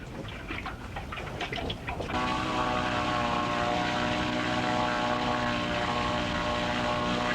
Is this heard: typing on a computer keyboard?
no